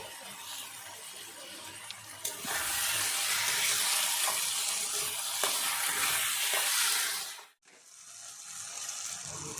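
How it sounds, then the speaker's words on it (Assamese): Tomatoes frying in a pan with salt for a rohu fish curry, a steady close sizzle with stirring scrapes that cuts out briefly and then returns more softly. "এতিয়া বিলাহীখিনি একদম পূৰা নগলালৈকে মই একদম ধুনীয়াকৈ ফ্ৰাই কৰি ল'ম।"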